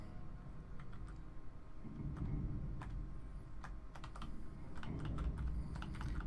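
Close, busy computer keyboard typing during PC play of Aliens vs. Predator: Requiem, with irregular key clicks in quick bursts over a steady rumble of game sound.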